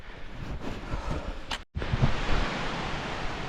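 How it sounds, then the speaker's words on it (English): A large waterfall roars up close outdoors, a constant broadband rushing wash with wind buffeting the microphone and a brief dropout partway through. "I'm up close to the waterfall now."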